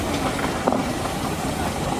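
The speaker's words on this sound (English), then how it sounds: "John Saunders' steam engine." A steam traction engine owned by John Saunders works at a steam rally during a tug-of-war against a team of volunteers, giving a steady, rumbling mechanical churn with a soft chuff, fairly close amid outdoor crowd noise.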